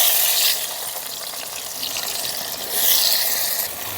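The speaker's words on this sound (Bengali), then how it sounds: "তেলটা গরম হয়ে গেছে, আলুটা ভেজে নেব।" Diced potatoes fry in hot mustard oil in a kadai, a loud, close, continuous sizzle that swells at the start and again near the end, with no one talking.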